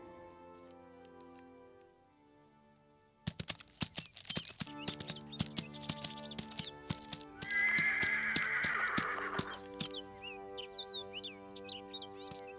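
A horse whinnies loudly partway through while hooves clip-clop in an uneven run of sharp knocks, with birds chirping lightly in the background.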